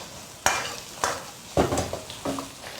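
Chicken giblets hit a wok of sizzling chicken fat with ginger, scallion, garlic, pickled chilies and Sichuan doubanjiang, followed by four sharp scraping stirs of a spatula against the metal over a soft frying hiss.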